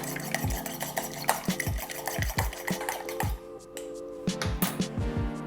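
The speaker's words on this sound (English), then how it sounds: "I will crack an egg. Let's give it a little whisk." An egg is whisked in a bowl, the whisk clinking against the sides in a quick, steady rhythm of repeated strokes, close and fairly loud, with no talking.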